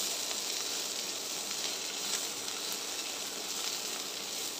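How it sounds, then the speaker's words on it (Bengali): Dried fish frying together with garlic and chilies gives off a steady, bright hissing sizzle that stays even for the whole stretch, close by and alone without voices. "এখন দিয়ে দেবো শুটকিটা, একসঙ্গেই ভেজে নেবো আমি"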